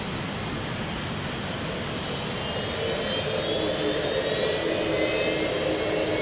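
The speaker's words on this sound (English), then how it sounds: "This is what the crowd love, they love a Vulcan that howls." The jet engines of the Avro Vulcan XL426 bomber howl at high power during a high-speed taxi run. A loud, steady roar swells gradually, with a rising whine building through it and no voices.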